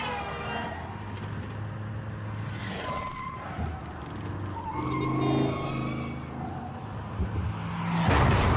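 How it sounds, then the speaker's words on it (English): A fast-moving car with no brakes racing against oncoming traffic in a video game, its engine roaring continuously with passing whooshes and skid-like tonal sweeps, fairly loud throughout with no voices. "you drive against traffic in a fast-moving car with no brakes"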